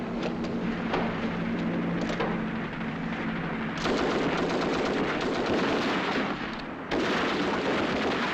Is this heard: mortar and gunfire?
yes